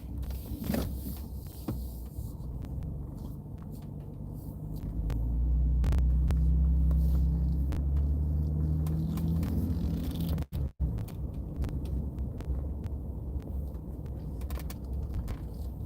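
A car moves through motor vehicle traffic, with a deep continuous road rumble heard from inside the cabin. The rumble swells louder midway, then settles back to a steady drone.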